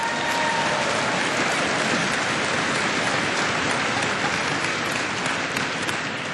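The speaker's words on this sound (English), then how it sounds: "Let's give them a round of applause." A large convention audience claps steadily for the technical team, a dense wash of applause holding at full strength and not letting up, with no voices breaking through.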